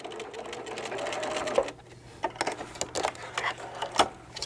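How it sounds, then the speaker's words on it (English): Sewing machine back stitching a small gift card holder, giving one steady close whir that stops abruptly, followed by a few faint clicks and handling sounds. "when I get to here, I'm going to back stitch."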